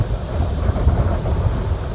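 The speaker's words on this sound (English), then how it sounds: "It is really, really windy on this side." Strong ocean wind buffets the microphone on a black sand beach in Iceland, a steady loud low roar with gusty rumble throughout and no voices.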